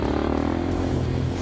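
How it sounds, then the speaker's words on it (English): A DRZ supermoto motorcycle engine drones loud and close as it accelerates on throttle on a track, a steady buzzing note sliding slightly in pitch over a rough roar. "now I'll try to show you where I get on the throttle"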